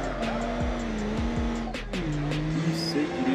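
A diesel car drifts in the BeamNG.Drive video game, its engine droning with pitch shifts as it revs and changes gear while the tires squeal in short bursts.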